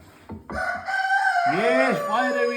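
Hens clucking and a rooster crowing close by on a farm in cold winter, short clucks opening into a loud drawn-out crow with no talk.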